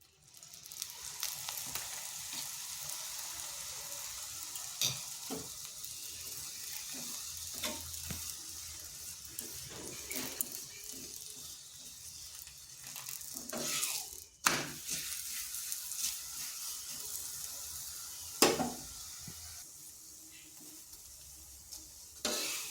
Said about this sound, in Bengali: তো এইভাবে আমি সবগুলো ভেজে নিচ্ছি।